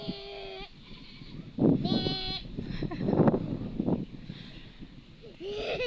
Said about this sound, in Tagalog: Tinatawag ka ng kambing